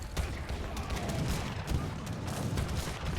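Captured mortars fire repeatedly in a real-time strategy battle, a steady barrage of dull thumps and booms layered over continuous mechanical rumble, with no voices.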